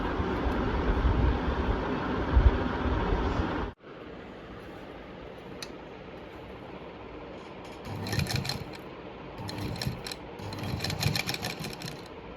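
An electric sewing machine stitches elastic back into a pair of pants, a steady loud whirring hum that drops abruptly, followed by quieter intermittent bursts of rapid needle clatter.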